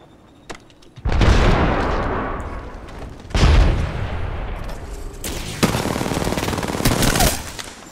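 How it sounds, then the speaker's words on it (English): Sustained automatic gunfire and heavy booming shots from the console shooter Apex Legends, loud and dense with echoing blasts that stack into continuous fire for several seconds. "Trying to shoot at me."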